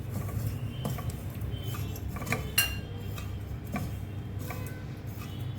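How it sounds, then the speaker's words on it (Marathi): Milk powder and sugar for pan modak are stirred in a pan, with light irregular clinks and taps of a spoon against metal over a low steady background hum, close by and without talk. "पाऊण वाटी साखर परतवून घेणार आहे। सगळं मिश्रण परतवून घ्यायचं आहे एकजीव।"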